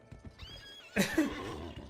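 A horse in the western video game GUN lets out a single loud whinny about a second in, preceded by quieter in-game ambience and a few soft thuds.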